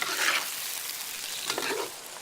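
Tofu sizzles steadily in a hot wok, a close, continuous frying hiss that swells briefly as the delicate pieces are gently moved side to side with a Chinese spoon.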